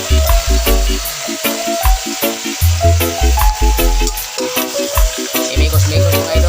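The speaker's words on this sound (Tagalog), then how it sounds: "Gisa muna natin ito mga idol para masarap" Chicken sautéing in a pan, with sizzling under a rhythmic, repeating music-like beat and clanking, loud and close throughout with no talk.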